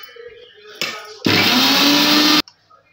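A mixer grinder grinding cumin seeds into powder, with a short burst followed by a loud, steady whirring run of just over a second that stops abruptly, all up close.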